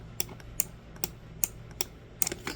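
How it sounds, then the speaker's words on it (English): A series of sharp, light clicks inside a Nutribullet blender, six or seven irregularly spaced taps of a white plastic piece against a metal piece, close by in a quiet room. "there's a white piece here, white plastic piece, and it comes up and it pushes on this metal piece"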